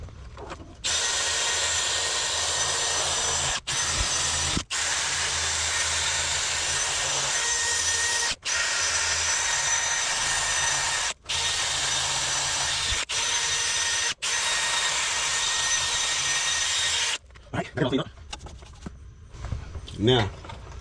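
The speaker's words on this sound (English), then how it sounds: "I think I'm gonna see if I can find a wire wheel and clean this up too." A power drill fitted with a wire wheel scours the metal rear sway bar mount on a 1989 Box Chevy in long, loud, close grinding runs broken by brief pauses, then stops and a voice speaks.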